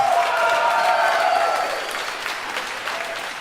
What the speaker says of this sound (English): Applaud if you've seen Equilibrium.